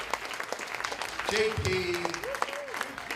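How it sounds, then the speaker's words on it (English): An audience at a media access awards ceremony applauds the TV station team, a sustained burst of clapping heard beneath someone speaking over a microphone. "Give them a round of applause, please."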